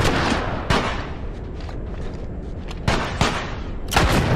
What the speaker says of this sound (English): what is shooting at me now?